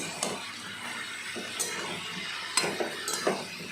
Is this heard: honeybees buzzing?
no